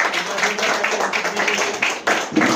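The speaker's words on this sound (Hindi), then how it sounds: "एक बार जोरदार तालियां मेहंदी जी के लिए" An audience claps for a guest being introduced at a live event, a sustained, busy patter of hands with a brief dip near the end before it picks up again.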